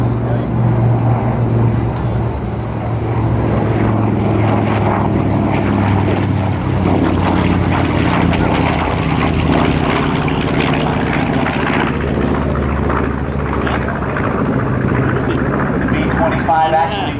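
A Stearman biplane's 225-horsepower Continental propeller engine drones loudly and steadily in flight, a rough continuous roar with people talking over it.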